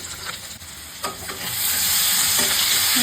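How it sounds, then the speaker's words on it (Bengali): Boiled baby potatoes fry in a pan over a high gas flame while being stirred, a steady close sizzle with scraping stirs that grows louder and hissier toward the end. "একটু আলুটা নাড়া দিয়ে নিই।"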